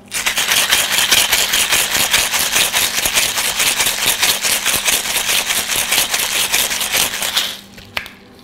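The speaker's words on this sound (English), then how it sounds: "And don't be shy, give it a good shake." A mixing tin packed two-thirds with ice and filled with the ingredients of a coconut and basil cocktail is shaken hard. Ice rattles in a loud, steady rhythm for about seven seconds, then stops.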